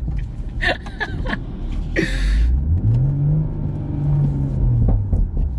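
A BMW M140i engine rumbles and rises in pitch as it revs, with a burst of crackling pops and a few sharp bangs from the exhaust.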